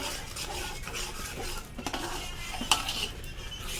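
A spoon stirring pav bhaji in a cooking pan, with scraping and clinking of metal on the pan in short repeated strokes and a sharp clink near the end, close and moderately loud with no talk.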